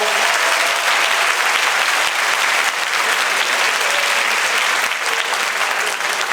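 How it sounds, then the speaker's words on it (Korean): Applause from a school audience fills a spring concert hall featuring a tenor. The clapping is dense and steady, with even loudness throughout and no speech over it. "다시 한번 큰 박수 부탁드리겠습니다."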